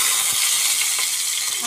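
Small onions and green chilies hit hot oil with a loud, continuous hissing sizzle, close and steady throughout.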